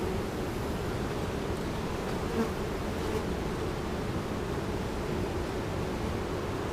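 Honey bees swarm and drone around an open hive box with a fresh brood cycle in the top box, a dense, steady buzzing that fills the whole clip at close range with no talk.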